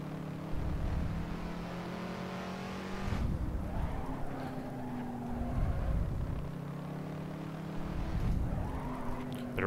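Race car in the Assetto Corsa driving game on an LA canyons mod, its engine droning and revving steadily with pitch swells as it lifts and accelerates through corners, loud and continuous.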